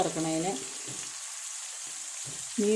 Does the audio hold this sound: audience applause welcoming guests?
no